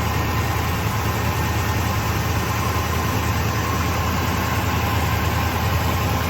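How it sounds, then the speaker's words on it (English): A 1977 Can-Am car engine idling on choke during warm-up, a steady low rumble with an even drone, loud and unchanging throughout. "The engine's going through its warm-up cycle, still on the choke."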